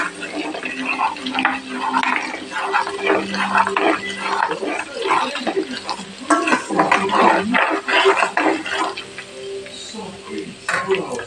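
Chicken frying in a pan for chicken pickle is stirred continuously, with scraping spoon-against-pan strokes and steady sizzling, loud and close throughout.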